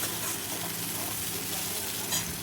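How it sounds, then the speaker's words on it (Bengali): Chopped tomato and spices hiss and sizzle in a hot pan with browned onion as they are stirred for a fish dish, a close, steady frying crackle with soft scraping throughout. "এবার দিয়ে দিচ্ছি টমেটো কুচিটা দিয়ে একটু নেড়ে চেড়ে মশলা দিয়ে দেবো"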